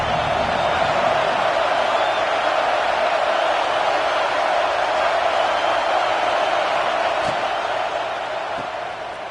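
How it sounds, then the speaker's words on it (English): A steady, loud stadium crowd roar fills a college football video game featuring Iowa, holding an even wash of noise throughout before easing slightly at the end. "This crowd ready to make its presence known."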